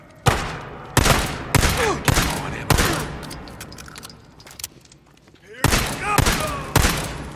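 Gunfire in the video game Days Gone: repeated loud bursts of shots in quick volleys, with a brief lull before more shooting resumes, while shouting voices sound beneath the blasts.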